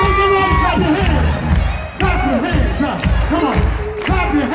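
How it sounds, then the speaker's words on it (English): Concert crowd at an open-air theatre cheering and shouting loudly throughout during a performance, with a voice shouting over the noise and the band's music underneath. "Make the noise, clap your hands."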